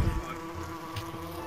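Bees buzzing in the video game VRChat, a steady droning hum that holds close and moderately loud with slight wavering, and no speech over it.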